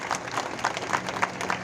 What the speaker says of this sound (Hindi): उनके लिए एक बार ताली बजा के स्वागत कीजिए।